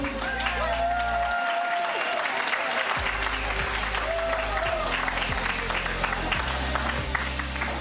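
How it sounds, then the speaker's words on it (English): An audience at a comedy theater applauds and cheers for the next act, loud dense clapping filling the room without a break, with scattered whoops over the top. "Now let's make some noise for Showdown"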